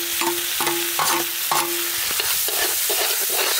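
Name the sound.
chopped onions frying in white oil and butter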